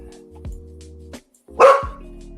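An indoor dog barks sharply a few times, with one loud, high yelp standing out, against a steady low electronic hum.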